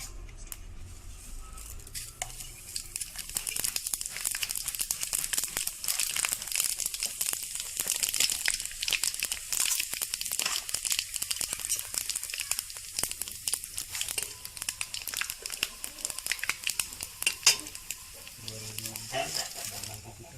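Panch phoron spices hit hot oil in a kadai that already holds bay leaves and dried chillies for a cabbage dish, setting off a loud, close, continuous crackling sizzle that lasts almost the whole time before easing near the end.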